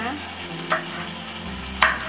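A knife chops chili peppers on a board, with a few sharp cuts standing out at a slow, uneven pace over a low background hum.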